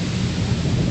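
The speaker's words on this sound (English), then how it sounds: "Oh, it's starting to rain again." Steady broadband rumble with a dense low-end wash of rain and wind-driven hurricane storm noise in Tennessee, continuous and loud with no talking.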